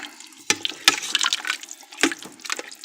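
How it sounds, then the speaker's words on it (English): Water is poured into a pot of venison chili, two cans' worth, giving splashy, gurgling sloshes with a few sharper plops, close and fairly loud. "going to add some water now. I'm just doing 2 cans full because this will cook down quite a bit."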